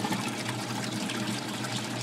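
Water filling a sump basin in an aquaponic vegetable system, a steady broadband rush of pouring and trickling liquid that holds an even level throughout at moderate loudness, with no voices over it.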